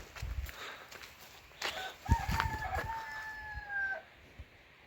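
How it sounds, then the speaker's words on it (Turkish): A rooster crows once at a moderate distance, its drawn-out call rising over outdoor rustling and a few faint clucks. "Horoz var."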